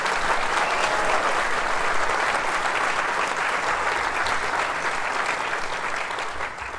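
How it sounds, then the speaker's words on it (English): A theater audience at the Wagner Theatre applauds in a steady, dense wash of clapping that stays loud and even for several seconds before easing slightly at the end. "I think you should give them a big round of applause"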